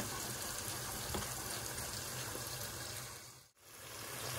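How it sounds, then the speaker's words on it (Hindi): Water poured from a vessel into egg curry masala in a pan, a continuous soft gushing splash that holds steady for several seconds, then cuts off abruptly. "इसको कुछ इस तरीके से पानी डाल के पूरा अच्छे से घुमाऊँगी, सारा मसाला पानी में फैला दूँगी।"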